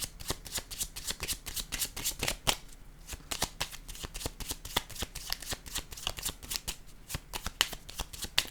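Tarot cards are shuffled and handled in a steady run of crisp riffles and snaps for several seconds, close and clear, with no talking.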